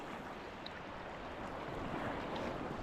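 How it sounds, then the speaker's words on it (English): Sea waves near Fjäderholmarna island in the Stockholm archipelago, a dense, loud, continuous wash of surf and wind with no talking. "Oh, look at the waves."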